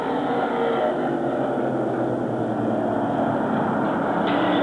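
Late model race cars roar off turn four at Lancaster Speedway in 1998, a loud, continuous engine drone from a pack of cars, steady throughout with a slight rise at the end.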